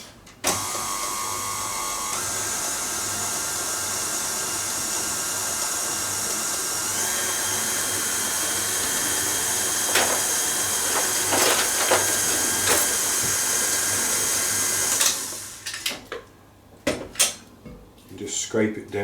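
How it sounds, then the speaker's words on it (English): An electric mixer beats 600 grams of soft cheese with 250 grams of caster sugar for a lemon and raspberry cheesecake, giving a steady, close motor whir for about fifteen seconds before it cuts off into scattered clatters. "I'm just going to mix that together."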